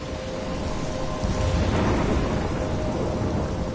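A loud thunderstorm in the video game Life is Strange: a heavy, continuous rumble of thunder swelling midway over a constant wash of pouring rain, with no voices.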